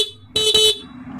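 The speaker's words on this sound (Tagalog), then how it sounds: "Yung tunog ng ating busina ganyan lang" One short, loud honk from a nearby car horn, lasting under half a second, over a low engine idle.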